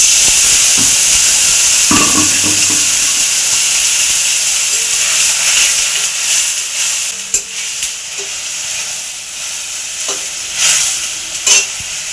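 Water splashed into a hot kadai of frying spices and oil sends up a loud hissing sizzle, broken by stirring scrapes and clatters, then gradually settles and thins.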